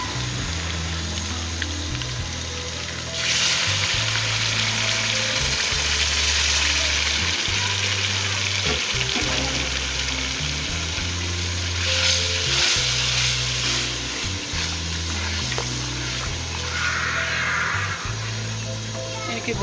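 A paste of tomato, onion and green chili hitting a pan of frying garlic and ginger, bursting into a loud, dense sizzle that swells twice and carries on steadily with faint background humming tones.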